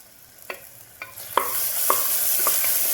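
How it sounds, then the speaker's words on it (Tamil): A spoon scrapes and stirs through a pan of frying onions with ginger-garlic paste several times while the food sizzles steadily underneath, close and clear. "நல்லா கிளறி கொடுத்துக்கலாம்"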